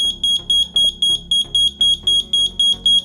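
A Brilliant WiFi smart smoke alarm, set off by smoke, sounds a loud, piercing electronic beep that repeats in a steady, rapid rhythm, about three pulses a second, with no voices over it.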